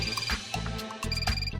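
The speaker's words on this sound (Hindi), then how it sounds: "फोन बज रहा है" A phone ringtone chimes in short, repeating electronic tones over a busy, loud background.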